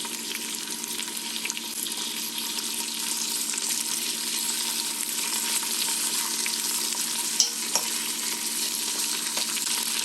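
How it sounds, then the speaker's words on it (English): Steady, bright sizzling of ham hock or side meat frying in a hot pot, a continuous crackling hiss with a faint clink partway through. "Hopefully you can hear that sizzle."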